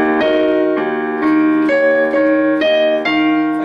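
Piano plays a short measure from a song: a series of clear, evenly spaced chords and notes at a gentle, steady pace, close and alone.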